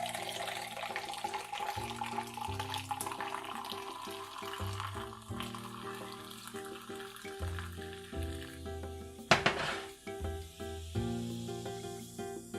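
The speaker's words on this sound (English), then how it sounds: "I'm going to pour a glass." Homemade fizzy ginger soda pours into a glass, giving a steady hissing, sizzling fizz that runs throughout over background music, with one brief louder splash near the end.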